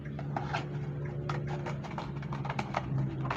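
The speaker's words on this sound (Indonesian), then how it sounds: "Nah, ini Bapak akan gunting begitu ya." Scissors snip steadily through a paper cube net in a classroom demonstration, giving a run of crisp, evenly spaced clicks and cuts over a low background hum.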